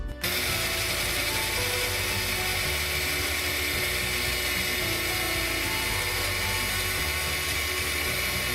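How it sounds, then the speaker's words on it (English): A blender grinding masala paste with water, a steady, loud, high-pitched whirring motor that runs continuously after a brief start, heard close with no talk. "So we're going to add some water and now grind it to a paste."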